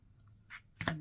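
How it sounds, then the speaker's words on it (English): Scissors snip through folded paper to cut a half-heart shape for a paper flower, a soft snip followed by a sharper close cut, quiet otherwise. "Cut out your half a heart shape."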